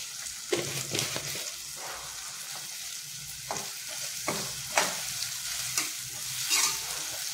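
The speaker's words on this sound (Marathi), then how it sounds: "याला आपण आधी थोडा वेळ असं मंद गॅसवर थोडी परतून घेऊया" Salted vegetables sauté in a pan over a low flame, a gentle sizzle punctuated by repeated close spatula scrapes and stirs at an uneven rhythm.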